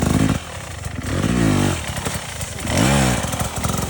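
A motorcycle engine revs up twice in rising, rough bursts, idling and sputtering between them, loud and close with no talking.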